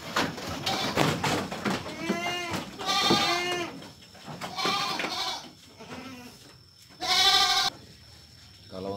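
Etawa breeding goats in a clean farm pen bleating repeatedly, several loud, close wavering calls, with quieter rustling between them.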